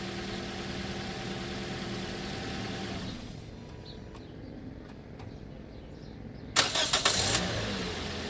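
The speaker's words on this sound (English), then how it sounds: "we'll turn it off and turn it back on so you guys can see how it normally would do." A 2014 Toyota Corolla with a new battery idles steadily, falls quieter, then its starter cranks and the engine catches near the end with a loud burst of short, rapid clicks and whirring.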